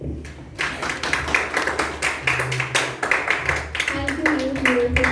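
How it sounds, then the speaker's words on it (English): Audience applause at a youth leadership program event, a steady stretch of many hands clapping in close, brisk rhythm with scattered individual claps standing out. It continues for several seconds with a faint voice near the end. "Please give them a thunderous round of applause"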